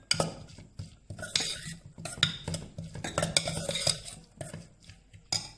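A spoon stirs chili powder and sauce together in a bowl, giving quick, close scraping and clinking strokes in an uneven rhythm with no voices.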